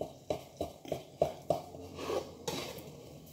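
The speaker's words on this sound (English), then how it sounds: "Slice, as you can see, it's cutting nice and grand." A knife cuts through a frittata in a pan, a series of quiet clicks and scrapes against the pan roughly every third of a second, then a softer scraping drag near the end.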